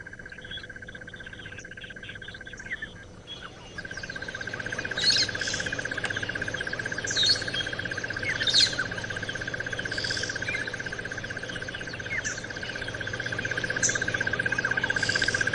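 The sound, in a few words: bird calls at dawn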